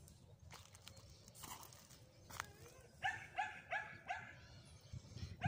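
Dogs barking from a neighbouring yard on a spring walk, a quiet, distant series of yips and barks with a whimpering tone, coming in a rapid cluster after some faint background noise.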